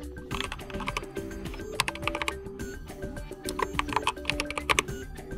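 Rapid keystrokes on a computer keyboard while a fastboot reboot command for relocking a Xiaomi phone's bootloader is typed, a steady run of close, crisp clicks with no talk.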